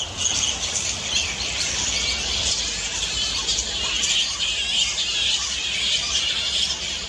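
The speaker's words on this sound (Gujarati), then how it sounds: "ચામાચીડિયાનો અવાજ કેવો હોય?" A bat calls in a steady, high, thin chittering that runs without a break for the whole stretch, fairly loud and close, with no voices.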